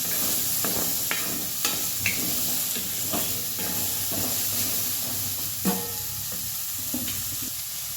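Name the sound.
potatoes roasting in oil, sizzling in a pan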